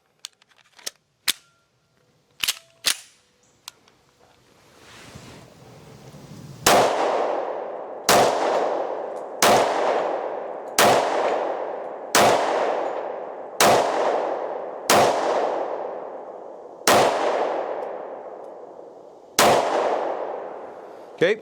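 A 1911 pistol fed from a Wilson Combat magazine fires about eleven sharp, loud shots at a steady pace outdoors, each with a ringing decay, preceded by a few lighter clicks and handling noises.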